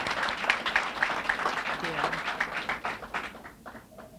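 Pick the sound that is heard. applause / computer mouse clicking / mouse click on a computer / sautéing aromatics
applause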